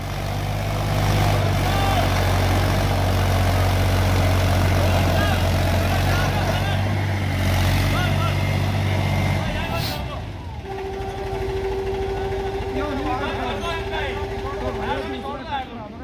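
A Mahindra 265 tractor engine pulls a loaded trolley with a loud, steady low rumble that drops away near the end. A fainter whine and other engine tones follow, and voices talk over the noise.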